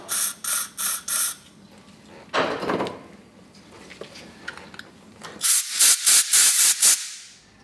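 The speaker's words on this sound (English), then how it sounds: "So I'm definitely going to get a bit of extra carb cleaner in there." Aerosol carb cleaner sprayed into a carburetor's idle mixture screw hole, heard as a few short close hissing bursts, then a softer longer spray and a final run of loud rapid spurts, with no talking.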